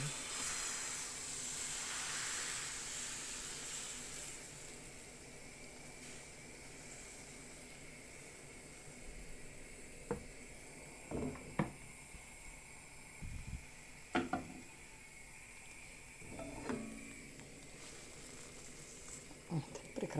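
Soft continuous sizzling of thin pancake batter frying in a pan, with occasional clinks and scrapes of a utensil against the pan.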